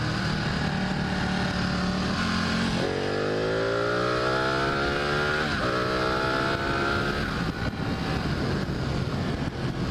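A fast motorcycle accelerates hard on the road, its engine climbing in pitch through two rising runs with a gear change between them, under steady loud wind rush.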